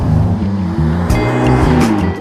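A Ferrari Portofino M in race mode drives hard, its engine loud and close with rising gear pulls and quick shifts, plus sharp bursts of exhaust crackle.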